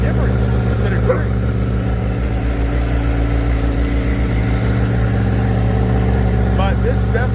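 A Honda Fireblade motorcycle engine idles close by, a steady low rumbling throb that holds an even level throughout, with faint background noises over it.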